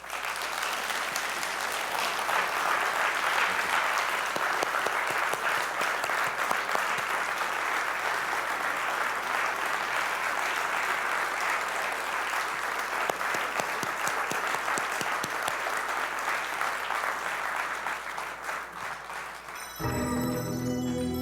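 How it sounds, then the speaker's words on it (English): A large conference audience claps in sustained, dense applause for about twenty seconds after a talk, then it tapers off and breaks into a different sound at the end. "please give another round of applause for Dr. Hammerschlag."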